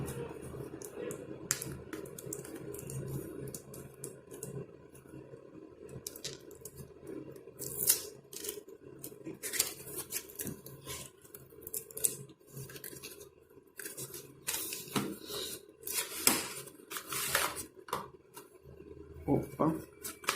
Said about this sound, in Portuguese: Deixa eu ver se dá pra abrir sem precisar de um estilete ou de uma tesoura